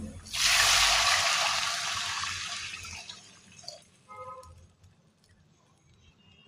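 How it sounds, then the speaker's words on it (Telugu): Water pours into a pan of frying onions while making red rava upma, a loud sizzling hiss that bursts up at once, then slowly fades over several seconds into faint crackles and small clinks. "కొద్దిగా వేగిన తర్వాత వాటర్ పోసుకోవాలి."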